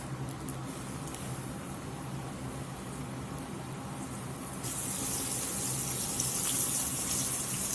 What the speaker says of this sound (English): So this is the first stage of the frying, basically.